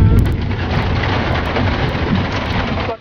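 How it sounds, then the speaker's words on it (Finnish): Heavy rain pours steadily during a thunderstorm, a dense continuous roar close by with low rumbling underneath, ending abruptly after about three seconds. "Pelottaako ukkonen Matilda?"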